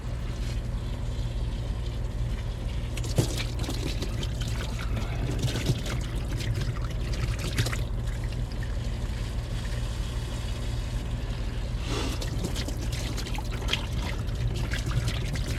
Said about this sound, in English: Not scrubbing or anything, it's literally just a hose.